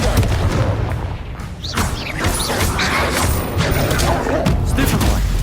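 Blasting spells and magical explosions boom repeatedly in the Hogwarts Legacy video game, bursts of crashes and impacts crowding one another amid ongoing combat noise, with a voice speaking over them.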